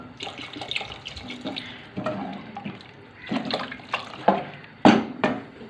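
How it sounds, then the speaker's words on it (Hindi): Water is poured and sloshed into a pot of cooking mutton and bottle gourd curry. The pouring comes in several uneven bursts, close and fairly loud, with splashing swells and no talking. "इतना सा मैंने इसमें पानी डाला है"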